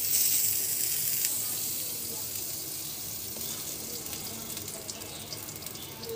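Butter melting in a hot pan for sweet French toast gives a steady bright sizzle that fades slightly and holds through the clip, with no talk.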